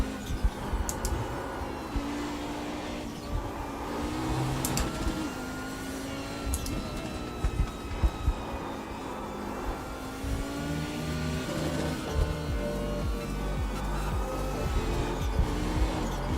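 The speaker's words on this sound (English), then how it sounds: "Try to ignore the other car sounds." Race car engines in an online racing simulator game whine and rise in pitch over a continuous roar, with occasional sharp clicks and tire noise, steady and fairly close.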